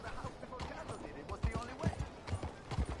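Horse hooves clip-clop in a steady rhythm while riding toward a stable in Red Dead Redemption 2, with a person talking over the footsteps throughout.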